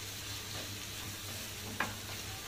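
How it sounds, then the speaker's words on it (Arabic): Spices frying in a hot pan with oil, a soft continuous sizzle with a faint low hum beneath and one brief sharper crackle near the end, no talking. "اسفه طبعا على الطشطشه"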